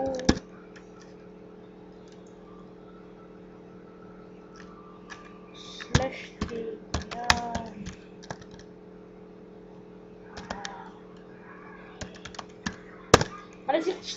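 A computer keyboard is typed on in short, scattered bursts of light clicks with quiet gaps between them, over a steady low hum.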